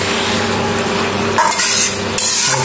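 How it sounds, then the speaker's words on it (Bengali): Chicken pieces (legs, head and meat) with chilli, black pepper and cardamom being stir-fried in a pan, a loud, dense, continuous frying noise with sharp scraping bursts of the spatula near the end. "মুরগিটাকে ভালো করে কষাতে হবে।"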